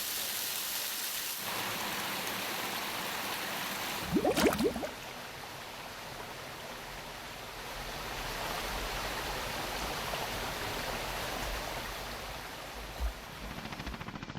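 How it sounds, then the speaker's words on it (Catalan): Mountain stream of the Torrent de la Vall on the Francolí river, surrounded by forest, springs and waterfalls: a steady, full rush of running water throughout, with a brief brighter splash or crackle partway through. "Ens ho mostra el torrent de la Vall, envoltat de boscos, fonts, rierols i salts d'aigua."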